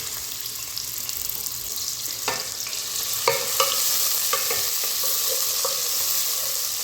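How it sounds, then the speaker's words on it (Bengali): Onion frying in oil in a pan while cooking pulao, a steady sizzle with scattered sharp crackles and a few stirring clatters, close and continuous with no talking. "তো এই তেলের মধ্যে আমি পেঁয়াজটা ভাজবো।"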